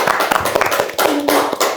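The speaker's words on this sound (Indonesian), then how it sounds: "Tepuk tangan untuk kita." A small group of students claps their hands at close range. The claps are quick and uneven, with a brief voice heard alongside them.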